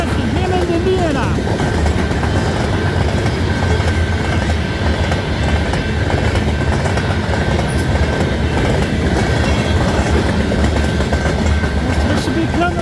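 A CN freight train rolls past south of Ladysmith, Saskatchewan, carrying potash toward Hammond, Indiana, with a rear DPU locomotive. Steady, loud rumble and rattle of rail cars continues throughout, with faint talk underneath.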